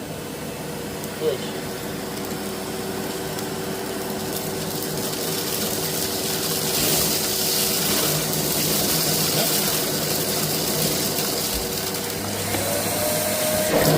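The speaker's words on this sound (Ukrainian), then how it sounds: "Оператор, зніміть, будь ласка, отут вакуум як працює." A Samsung VC07M3110VB vacuum cleaner runs on a carpet at full power with a steady, whooshing hum throughout. Faint voices can be heard in the background.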